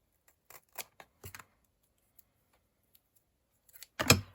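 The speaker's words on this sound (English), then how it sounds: "Cut the ends off." Scissors snip the ends off a journal cover in a few short, sharp cuts spread across quiet pauses, then a louder crisp snip near the end, with no talking.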